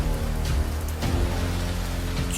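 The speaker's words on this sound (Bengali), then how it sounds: "ঝমঝম করে বৃষ্টি পড়ছে," Heavy rain pours down on a stormy night in a rural Bengal village, a dense, steady close patter with low rumbling underneath and no talk.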